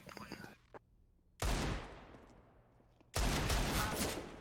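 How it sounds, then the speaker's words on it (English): Gunfire in a Counter-Strike: Global Offensive match: two sudden, loud bursts of shots with rolling echo tails, after a brief low voice at the start. "Shots on from Surreal, not connecting against Spiddy"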